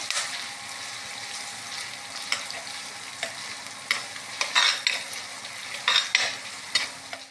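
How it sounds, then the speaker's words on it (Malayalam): Curry leaves fry in hot oil with chopped shallots in a pan for a Kerala-style curry, giving a steady close sizzle broken by repeated crackling bursts and stirring scrapes, with no talk. "കരിവേപ്പില ഇവിടെ ചേർത്ത് ഇനിയൊന്ന് മൂത്ത് വരട്ടെ"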